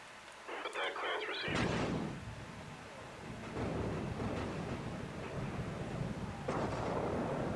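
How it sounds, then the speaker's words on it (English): Missiles streak and explode in the space strategy game Homeworld, with rumbling blasts and whooshing bursts layered over dense battle noise, someone talking faintly underneath. "You see how those missiles are just flying around all willy-nilly?"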